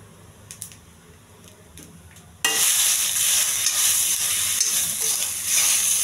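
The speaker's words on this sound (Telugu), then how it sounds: "బాగా కలపాలి పసుపు అంతా పట్టేంత వరకు." Brown rice with turmeric and salt being stirred in a pan, starting with faint scraping before a loud, steady sizzling, frying hiss takes over for the rest, close and continuous with no talk.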